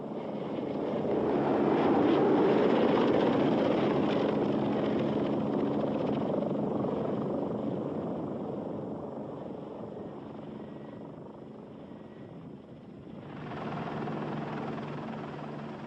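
A Lockheed AH-56 Cheyenne compound attack helicopter with jet engine thrust flies past, its steady rotor and engine roar swelling loud, then easing before surging again near the end, with no voices.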